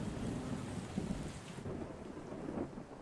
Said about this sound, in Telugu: తుఫాన్ అంట బావా, పెరుగుతుందంట వర్షం